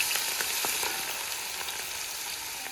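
Chopped garlic sizzles in hot oil with fenugreek seeds in a pan, the base for an Aluva-style Kerala fish curry; a steady, loud, close frying hiss runs without a break, with small crackles and no voices.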